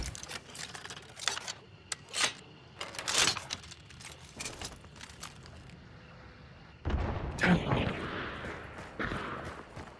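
A thrown explosive goes off in the game Hunt: Showdown: scattered sharp clicks and gunfire-like cracks come first, then a sudden loud blast near the end with a rough, rumbling tail.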